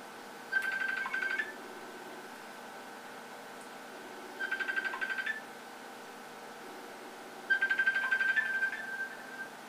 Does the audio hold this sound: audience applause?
no